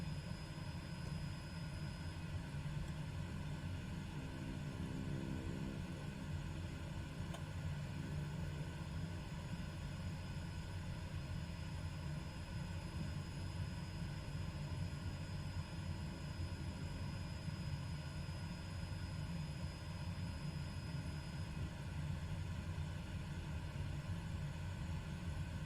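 Steady, unbroken propeller aircraft engine drone as a plane taxis at Caiolo in Microsoft Flight Simulator 2020, a constant low rumble with no voices.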